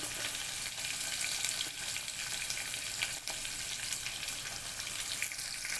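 Chopped onion, green chillies and curry leaves frying in oil in a pan, a steady close sizzle filling the whole stretch with occasional stirring scrapes, no voices.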